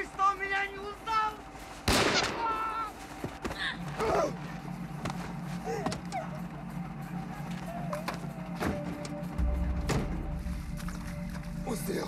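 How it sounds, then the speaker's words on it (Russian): Gunshots ring out in a dramatic action film scene: one sharp, loud crack stands out early, followed by a few fainter bangs, all set over tense background sound and voices talking. "Он стрелял человека?"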